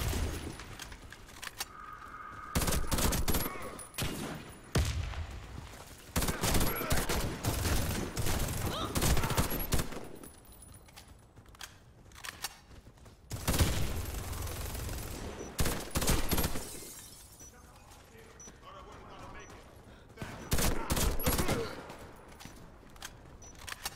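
Gunfire in the shooter game Warface, a loadout with a burst weapon: repeated loud bursts of shots come in clusters across the round, with gaps of quieter game sound between them.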